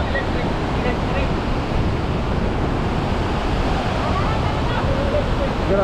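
Strong, fast river current rushing at Wawa Dam after a typhoon, a loud steady broadband roar of water that fills the whole span, with wind buffeting the microphone.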